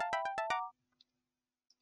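A phone rings in a horror video game, four quick electronic ring pulses in fast succession, then near silence with a couple of faint clicks.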